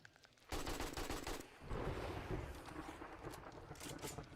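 Rapid gunfire crackles in a 7 Days to Die match, with a quiet lead-in followed by dense bursts of automatic shots that continue close and loud throughout.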